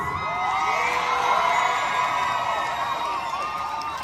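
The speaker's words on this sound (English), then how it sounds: "And they're cheering." A crowd at a protest in Canada cheering and shouting together, a loud sustained roar with rising whoops and high voices layered over one another, holding strong before easing slightly at the end.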